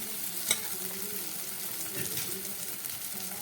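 Spice paste for a jackfruit and prawn curry fries in oil after yogurt is added, a soft steady sizzle with stirring and one sharp utensil tap near the start, fairly quiet throughout.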